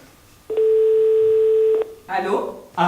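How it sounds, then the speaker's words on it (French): A single sustained telephone ringing tone sounds once, steady and loud for over a second, followed by a voice speaking into the phone. "Première sonnerie."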